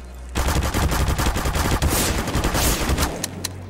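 Video game gunfire in Garry's Mod in an SCP lab survival match: a loud, continuous rapid-fire burst of automatic shots lasting about three seconds, with no voices.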